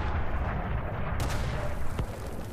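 Gunfire and artillery explosions of a World War One battlefield form a dense, continuous roar, with a sharp crack near the end standing out against the rumbling barrage.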